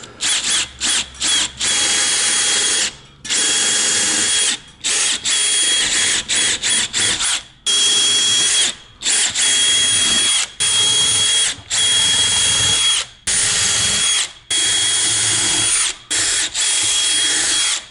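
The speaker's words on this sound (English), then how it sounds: "what that tells me is that we're drilling into the sip, but we're not drilling into spray foam" Power drill boring into a structural insulated panel (SIP) roof with foam insulation, heard as repeated loud bursts of whining drilling separated by short pauses, close and without talk.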